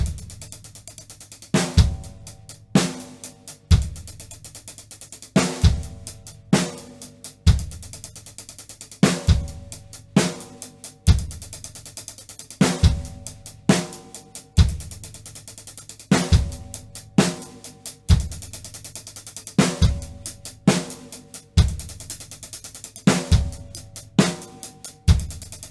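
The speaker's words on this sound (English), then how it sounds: "That's our 15-stroke roll." Drumset strokes in alternating 16th notes form repeated 15-stroke rolls, each roll ending in a sharp accented hit, cycling steadily through the whole passage with no talking.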